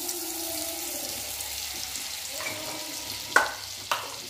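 Butter sizzles in hot oil in a pan, a soft, steady frying hiss close by, with two sharp clinks near the end.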